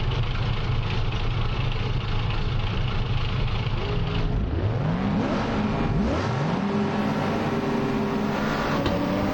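British saloon race cars, including a Ford Cortina, launch from the grid in Assetto Corsa with wheel spin. A steady roar of engines builds as several cars rev hard, their rising pitch sweeping upward through the gears, loud and close.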